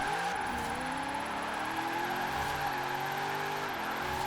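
A new Corvette drifting in the racing game Forza Horizon 4 holds a steady high engine drone. The pitch dips and climbs with gear and throttle changes, loud and continuous, with no voices.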